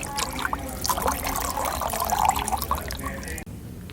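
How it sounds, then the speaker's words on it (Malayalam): Water pours steadily into a homemade aquarium canister filter, a continuous close trickling and splashing that runs for several seconds before stopping abruptly near the end. "അപ്പോൾ ഇനി നമുക്ക് വെള്ളം നിറച്ചിട്ട് കാണാം."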